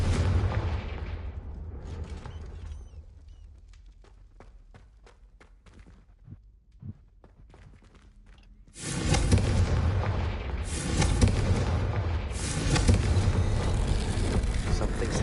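In a Hogwarts video game, a Confringo spell sets off a sudden loud fiery blast after a quiet stretch of faint clicks and thuds, followed by a sustained roaring, crackling rumble.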